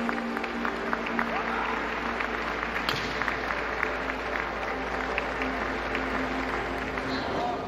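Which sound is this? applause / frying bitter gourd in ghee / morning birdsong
applause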